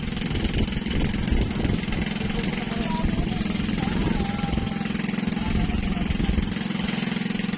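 Continuous chugging boat engine running nearby, a steady mechanical rattle and hum with faint voices underneath.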